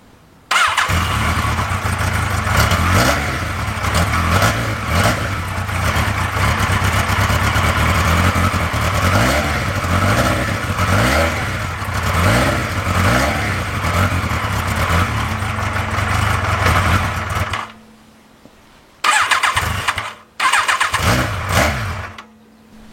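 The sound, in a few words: engine revving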